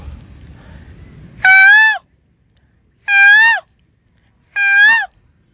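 A man imitates a peacock's call with his voice, giving three loud, separate, wailing cries at even intervals, each sliding and harsh, with near silence between them after a faint murmur at the start.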